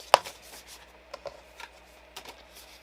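A deck of tarot-style cards, stiff and awkward to handle, is shuffled close by, giving a sharp snap at the start and then scattered soft rubbing and riffling sounds, quiet and uneven.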